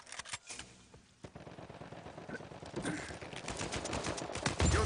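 AK-47 fire in the shooter game Uncharted 4 comes in repeated bursts of rapid shots, loud and close, growing denser toward the end, with no talk.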